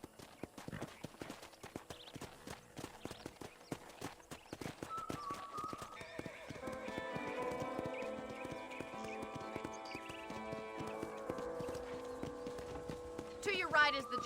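Hooves of a horse being ridden in the video game Red Dead Redemption clip-clop in a steady rhythm, with a brief whinny and game music rising partway through.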